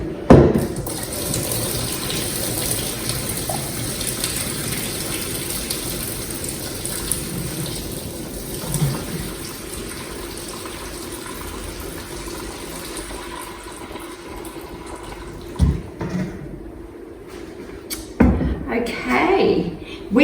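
Pasta water pours steadily out of a pot into a sink through a slightly open lid, a continuous splashing rush with a few clanks near the end.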